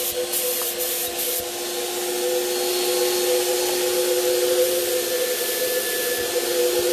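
A paint sprayer mists metallic paint onto a piece of furniture, giving a steady airy hiss with a droning motor whine beneath it, continuous and close for the whole stretch with no talking.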